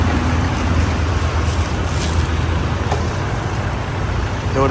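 Water pouring steadily during a car wash at a Bangchak gas station in southern Thailand, a loud, constant, broadband rush with no pauses, close and with no talking over it.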